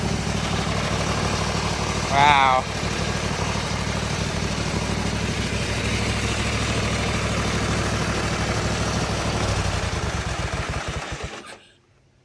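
A steady, rumbling V-twin engine on a racing lawn mower idles close by for several seconds, then cuts off abruptly; a person briefly exclaims over it.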